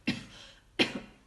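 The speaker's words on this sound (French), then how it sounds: "je vais tousser juste un petit peu" A woman coughs twice at close range, two short, soft bursts separated by a brief pause, with the second followed by a smaller catch.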